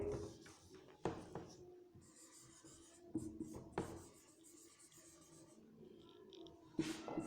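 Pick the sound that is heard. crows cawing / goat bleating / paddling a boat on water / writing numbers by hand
writing numbers by hand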